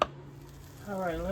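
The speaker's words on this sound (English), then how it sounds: "let's go ahead and put our onions in first" Chopped onions drop into a hot pan for cabbage soup with heart of palm, and a soft sizzle swells up near the end after a brief clatter, quiet and close.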